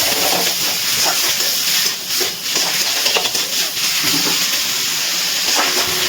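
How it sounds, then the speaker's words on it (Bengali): Small pieces of chicken fry with spices in a hot pan for a Mughlai paratha, giving a steady close hiss and sizzle that runs the whole time, broken by a few scrapes and stirring clicks. "এবারে খুব ভালো করে চিকেনটা কিন্তু কষিয়ে নিচ্ছি।"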